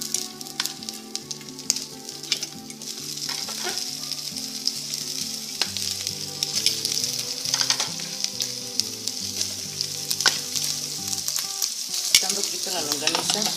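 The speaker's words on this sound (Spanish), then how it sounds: "en la misma grasa del tocino, freímos la longaniza rebanada." Sliced longaniza sausage fries in rendered bacon fat for beans with bacon, giving a steady, loud sizzle with scattered pops and light stirring clatter throughout, with no talking.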